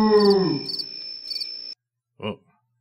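Crickets chirp in three evenly spaced pulsed bursts over a high steady tone, then sudden silence broken by a single short thump.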